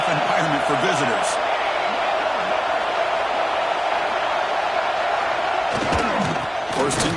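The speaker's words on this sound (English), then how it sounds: "Listen to the crowd energy here in the early going." A stadium crowd in a football video game roars continuously at a loud, steady level, with a few thumping impacts rising out of the din near the start and again toward the end.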